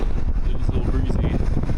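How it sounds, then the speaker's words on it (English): Wind buffeting a microphone on a breezy day at an outdoor tree removal job with a large crane, a steady loud rumbling roar throughout, with a voice faintly mixed in. "It's a little breezy."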